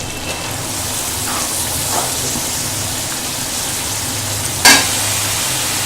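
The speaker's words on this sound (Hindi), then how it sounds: "मसाले की भुनाई हो चुकी है। अब हम इसमें मिर्ची ऐड कर देंगे।" Chilies hit roasted spice masala for Hyderabadi makhni methi daal and fry with a steady, close sizzle, broken by one brief sharp clatter near the end.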